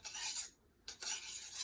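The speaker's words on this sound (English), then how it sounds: "Going through and using my Schrade knife sharpener here." A blade is drawn through a Schrade knife sharpener in two close, raspy strokes separated by a short pause.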